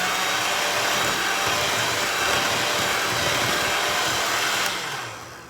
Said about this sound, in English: Okay, I'm gonna use my handheld mixer.